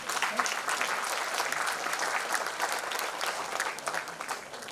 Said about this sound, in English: may I request the audience to please give a huge round of applause for each one of them